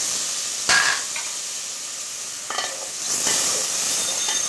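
Masala for a rohu fish curry sizzles in a pan, a steady frying hiss with a few sharp bursts and scrapes as it is stirred, loud and near with no speech.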